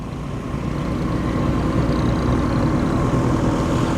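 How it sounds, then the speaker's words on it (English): A diesel engine runs steadily with a low, continuous rumble at a classic car show at Tatton Park, loud and unbroken with no talking. "I'm sure I can hear a diesel."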